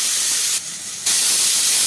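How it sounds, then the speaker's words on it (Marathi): A pressure cooker on the stove lets off a loud, continuous steam hiss, with a brief softer dip partway through before the full whistle-like rush resumes. "3 शिट्या झालेल्या आहे कुकरच्या."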